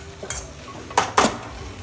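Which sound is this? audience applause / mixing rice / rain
mixing rice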